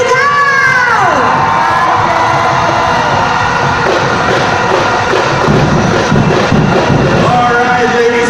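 A large event crowd roars and cheers loudly in response to a stage host's call, a sustained wall of shouting with children's voices mixed in, close and continuous throughout.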